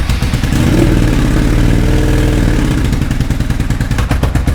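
A Suzuki SV650 motorcycle fitted with a swapped exhaust revs loudly and close by, its deep engine note swelling through a rev and then dropping back into a choppy, pulsing idle.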